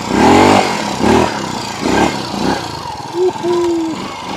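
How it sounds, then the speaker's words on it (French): A Honda four-stroke motorcycle engine revs in several loud bursts, rising and falling, followed by steadier tones as it accelerates close by. "C'est une moto mythique."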